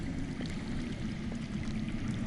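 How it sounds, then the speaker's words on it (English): Water flows steadily underground in a Game of Thrones video game, a soft continuous wash of rushing water with no breaks and no voices. "I hear water. From underground."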